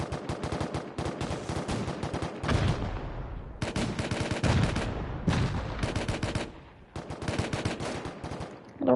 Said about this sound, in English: The second the rockets start launching, all breaks loose.